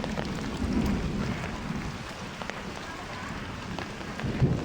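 Heavy afternoon rain pours steadily and close by, a dense even hiss with a low rumble underneath and no voices.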